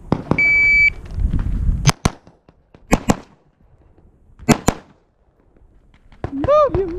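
Rifle shots at a stage of a shooting competition: loud, sharp cracks ring out alone, two quick pairs and a single shot spread across the span, followed by an electronic beep tone near the end.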